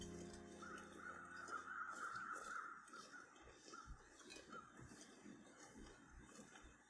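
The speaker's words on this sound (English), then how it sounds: "Bunch of crows up here." Crows caw in the snowy wilderness of the survival video game The Long Dark, faint distant calls repeating over several seconds beneath a quiet ambient wind bed.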